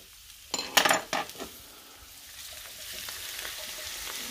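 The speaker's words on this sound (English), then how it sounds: "And additionally, I am going to put in the tomatoes and chilies as well." Tomatoes and chilies tipped into a hot pan of onions and peppers, a few loud clattering bursts of hitting the pan, then a steady low sizzle of frying close by.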